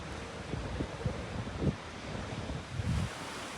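Sea waves wash onto a beach at the Blue Lagoon on the Irish Sea, a former quarry blasted open to the sea. The surf is soft and distant, with gentle surges under steady wind noise and no talking.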